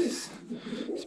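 Pigeons coo in low, soft, rolling calls, heard fairly close and continuous against a quiet background.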